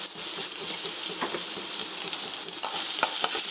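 Onions with salt and cumin sautéing in a pan for a lentil-ball curry, a close, continuous sizzle with stirring scrapes throughout.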